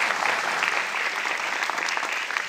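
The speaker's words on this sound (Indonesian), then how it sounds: "Tepuk tangan sekali lagi teman-teman." Steady audience applause at a science and patent talk, a dense wash of many hands clapping continuously at a moderate level.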